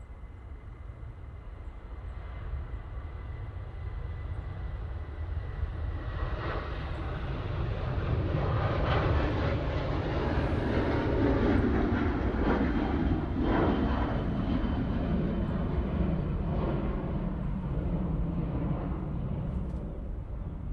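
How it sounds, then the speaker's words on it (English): A Jet2 Boeing 737-800 rolls for takeoff at Manchester Airport, its engine roar building from a steady rumble to a loud, sustained peak midway, then holding as the jet powers down the runway. "Jet2 now on the roll, using the 737-800."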